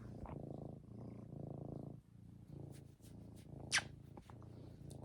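A pet cat purring close by in a quiet room, a steady low rumbling in repeated breath cycles, with a few faint clicks and one brief sharp squeak.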